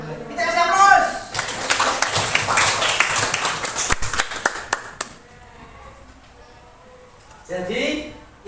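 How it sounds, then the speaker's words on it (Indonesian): Classroom audience of schoolchildren applauding, a few seconds of dense clapping that fades out, with voices speaking before and after. "Kita kasih aplaus."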